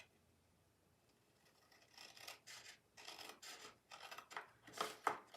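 Scissors cutting cardstock along scored lines for a holiday treat holder, a series of close, crisp snipping strokes that grow louder and quicker toward the end, preceded by a quiet pause.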